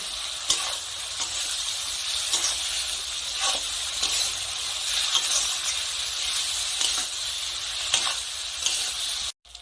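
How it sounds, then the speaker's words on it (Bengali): Spices with turmeric and salt sautéing in oil for a desi chicken curry, a steady close sizzle with repeated scraping stirs of a spatula through the pan, running continuously before cutting off abruptly at the end. "এখন সবকিছু ভালো করে নেড়ে চেড়ে একসাথে মিশিয়ে আরো 5 মিনিটের মতো কষে নেব।"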